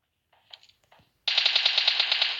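Loud, rapid burst of automatic gunfire in the PUBG Mobile game, a sustained rattle of closely spaced shots after a few scattered softer sounds, with no talking.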